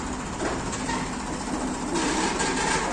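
A tractor engine hauls a chained clamp to drag straw out, giving a loud, continuous low rumble with rattling mechanical noise throughout, nobody speaking.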